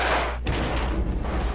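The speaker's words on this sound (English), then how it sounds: "Lots of secondary explosions." Muffled, rumbling thuds of secondary explosions in a military combat video game with helicopters and rocket launchers, a dull boom breaking in after a brief dip, then a sustained low rumble.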